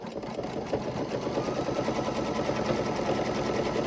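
A home embroidery sewing machine stitches out a design with a fast, even, rattling needle chatter that runs unbroken. It sounds close and moderately loud, with no talking.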